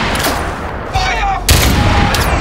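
Rifles in a Trench Warfare battle fire in dense overlapping volleys, loud and close, with a heavy boom partway through and a rough background of sustained gunfire.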